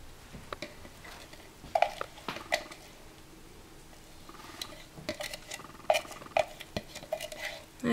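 A spatula scraping and stirring finely minced onion in a pan for potato soup, soft irregular squishy taps and scrapes, fairly faint and close, with no talking.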